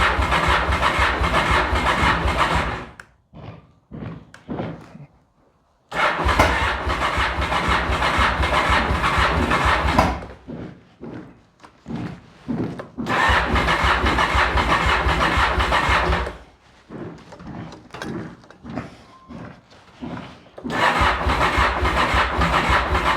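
Honda VTR 1000 Firestorm motorcycle with a weak battery: three long, loud grinding cranking attempts from the starter, each several seconds, separated by quieter gaps with faint clicks and rattles, heard up close.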